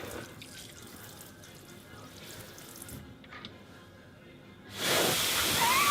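Water gushes from a tap for hand washing, a sudden loud hissing rush that starts near the end after quieter background noise.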